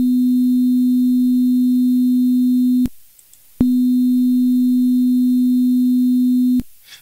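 A pure sine wave tone sounds loud and steady twice, each long sustained burst cut off abruptly, separated by a short silent gap.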